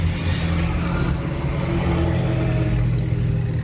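A car driving along a road in Tamarindo, Costa Rica, heard from inside: a steady low engine drone and road rumble, continuous and fairly loud, with no talk.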